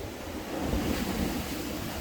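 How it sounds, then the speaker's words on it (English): Irish Sea waves washing against the shore at Blackpool, a steady broadband surf roar with some wind buffeting the microphone, continuous and fairly loud throughout. "The Irish Sea today is on its way out. It climbed right to the top of these steps here today"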